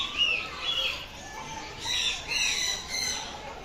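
Fowl, likely turkeys, squawk in a series of sharp, high calls from fairly close by. The outbursts come in two or three clusters, with a little chirping and light rustling of wings between them.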